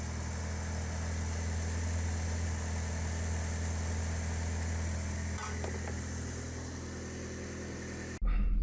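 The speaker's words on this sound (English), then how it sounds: "Gonna run the car, make sure there's no leaks" A Mitsubishi Evo idles after a fuel filter replacement, a steady, close engine drone with a deep low-end rumble that holds evenly, then briefly surges louder at the very end.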